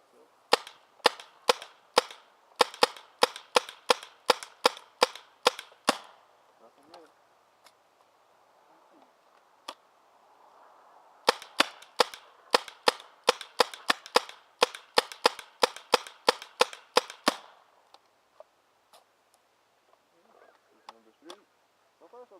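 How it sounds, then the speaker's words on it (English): Paintball marker firing Inka copper paintballs at a paintball field, sharp rapid shots in two long bursts of many pops with a short pause between, a few scattered shots after, and faint voices in the background. "We're just gonna keep feeding them in, shoot them out, and see what happens"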